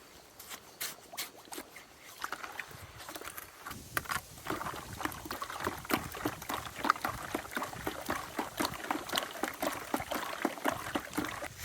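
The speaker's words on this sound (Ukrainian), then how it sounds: "перемішуємо, щоб розмішати наш цукор." A spoon stirs sugar into cherry wine in a bucket, giving a steady run of soft liquid sloshes and small clinks, close by and fairly quiet, with no talking.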